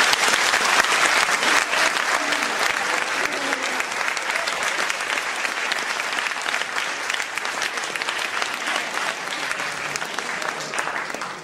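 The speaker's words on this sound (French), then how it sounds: "je vais vous demander de faire un tonnerre d'applaudissements" Sustained theatre audience applause at the Palais des Arts, loud and dense from the start, gradually tapering off toward the end.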